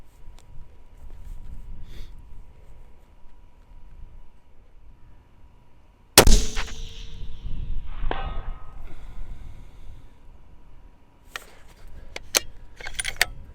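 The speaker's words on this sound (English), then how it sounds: "I'll go ahead and shoot a couple more" A single sharp report from a custom 300WSM rifle cracks out loud midway, followed by a ringing decay and a few later metallic clinks over quiet outdoor background.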